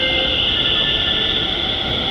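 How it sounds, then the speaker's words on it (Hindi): A metro train pulls out of a station with a loud, steady rumble and a high, sustained whine from the wheels and motors filling the space. "मेट्रो जा रही है"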